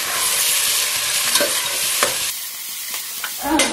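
Onions sizzling steadily in a hot pan while cooking biryani, with a few scraping stirs of a utensil; no talking.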